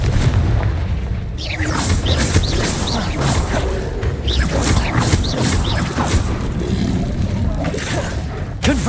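Confringo spell explosions in the video game Hogwarts Legacy: a dense, continuous roar of booms and crashing blasts overlapping for several seconds, loud and close, with speech faintly mixed in.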